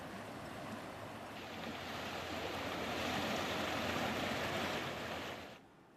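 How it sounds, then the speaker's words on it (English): Chenab River water surges into dry riverbeds after dams are opened, a broad, steady roar of rushing water that swells midway and then cuts off sharply near the end. "those dry river beds suddenly flooded with the Chenab River water"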